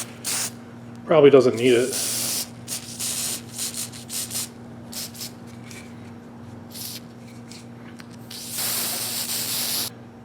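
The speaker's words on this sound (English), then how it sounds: "I'm just gonna put a little of the spray on tack sealant." A can of spray-on tack sealant hisses onto a Pontiac oil pump gasket in two bursts, a short one near the start and a longer one at the end, with someone speaking briefly between them.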